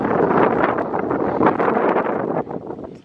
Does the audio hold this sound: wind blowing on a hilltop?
yes